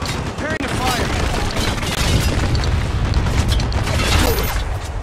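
Mortar fire in Spec Ops: The Line forms a dense, continuous barrage of booming blasts and crackling gunfire that stays loud throughout, with battle chatter mixed underneath.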